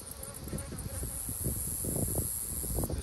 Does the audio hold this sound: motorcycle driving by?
no